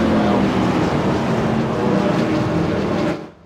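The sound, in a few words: race cars in a racing video game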